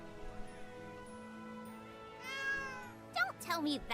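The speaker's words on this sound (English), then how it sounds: "It's just a cat." A cat meows in the action RPG Granblue Fantasy Relink, a couple of rising and falling cries set against game music and sounds, loud and close near the end.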